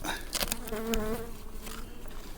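Honey bees hum and buzz in the air around hive boxes in a cold spring, a steady insect drone with sharp clicks and knocks over it, no voices.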